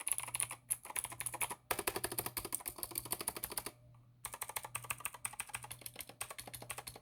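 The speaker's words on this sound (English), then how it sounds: "these keycaps are different. They sound a little different than these ones" A keyboard fitted with thrifted Goodwill keycaps is typed on rapidly and close up, giving dense runs of clacky keystrokes with a brief pause in the middle.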